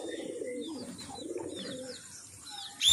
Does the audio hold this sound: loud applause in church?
no